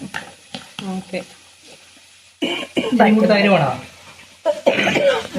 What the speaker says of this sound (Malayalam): അമ്മയ്ക്ക് നല്ല ചുമയുണ്ടല്ലോ